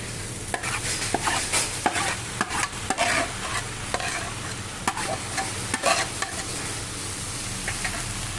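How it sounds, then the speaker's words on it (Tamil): Onions with green chillies, mustard seeds and urad dal sizzling and frying in a pan as rasam is stirred in, with steady hiss and repeated clinks and scrapes of a spoon, no talk. "இப்போது இந்த ரசத்தை இந்த வெங்காயத்தோடு சேர்த்து விட்டுருவோம்."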